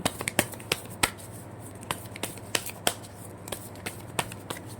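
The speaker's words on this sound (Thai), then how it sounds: "เดี๋ยวสับไพ่ใหม่สิ" Tarot cards being shuffled close by, a run of crisp snapping riffles and flicks at an uneven rhythm over a quiet background, with no talk.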